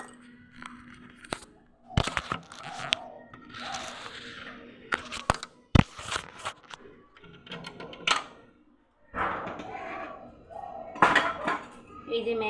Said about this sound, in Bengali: তোমাদের টুকুরানি ম্যাগিটা খাবে, আমি বাটিতে ঢেলে দেবো